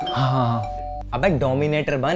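A doorbell rings briefly inside a shared rented flat at the start, followed by someone talking and other voices.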